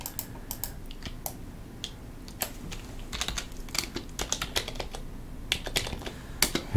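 Fast, uneven computer keyboard typing with sharp clacks in bursts, close up, over a low steady hum; a few crisper mouse clicks stand out.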